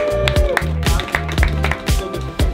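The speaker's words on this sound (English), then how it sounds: "Just a bit more energy on the cheer, yeah?" An audience at a running event warms up with steady rhythmic clapping and some cheering, sharp claps repeating in time over a bed of voices and background music.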